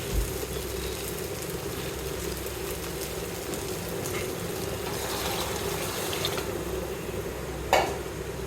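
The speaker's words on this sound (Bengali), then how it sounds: "পানি দিয়ে দিলাম" Water added to rice that has been fried with spices for pulao makes a continuous close hiss and bubbling sizzle, with a short sharp splash or clatter near the end.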